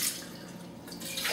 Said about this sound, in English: We take 2 cups of water